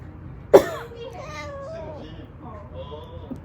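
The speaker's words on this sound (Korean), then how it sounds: "방금 일부러 기침한 거거든요." A single sharp cough bursts out near the start, followed by soft, quiet vocal murmurs and faint background noise.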